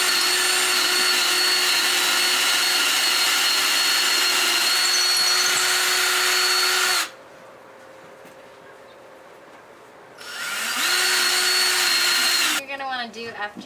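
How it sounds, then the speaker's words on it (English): A power drill pre-drilling holes in thin 2x4 wood: a loud steady whine runs for about seven seconds, stops for a quiet gap, then spins up again before easing off with a few clattering knocks. "pre-drill your holes so that your wood doesn't split because it's really thin"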